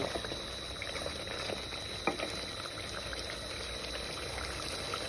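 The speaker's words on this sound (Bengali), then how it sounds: "মাংসটা কষানো হয়ে গেছে, এখন ঝোল দিয়ে দিব" Broth pours into beef curry that has been sautéed in a pot, a soft continuous liquid hiss and bubbling heard quietly and close, with one brief clink partway through.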